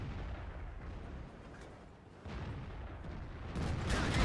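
Tank cannon fire in World of Tanks, with an IS-3 heavy tank in the match, comes as dull booming blasts and rumbling impacts at mid distance, the loudest shot near the end.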